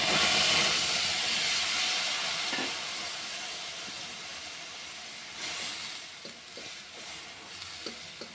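Milk cream heating in a wok to render homemade ghee, giving a steady sizzling hiss with occasional soft stirring scrapes and small pops, close and moderately loud with no talking.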